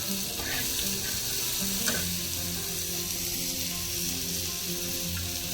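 Garlic and green chilli frying in hot oil give a steady, close, loud sizzle with a few faint stirring clicks throughout.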